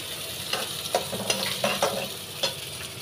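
Finely chopped onion frying in hot oil in a pan, browning with a steady soft sizzle and a few scraping stirs of a spoon at irregular intervals.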